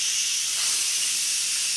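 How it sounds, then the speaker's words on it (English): Steam hisses loudly and steadily from an Instant Pot vent valve during a quick pressure release, a close continuous high-pitched rush with no voices. "Quick pressure release means you take something like our stick and you can turn the vent valve."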